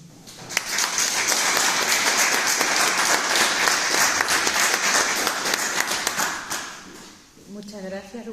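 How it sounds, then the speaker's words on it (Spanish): Audience at a theological workshop gives a loud, sustained round of applause to welcome a speaker, dense clapping over several seconds that dies away near the end as a voice begins talking. "Pues la recibimos con un fuerte aplauso."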